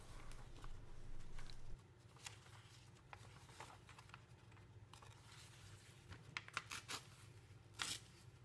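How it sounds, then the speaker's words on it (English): A paper drawing being folded and torn into squares, soft scattered rustles and a few sharper tearing rips, close and quiet with no talk. "choose one of your drawings and folding and tearing, let's cut it into equal sized squares"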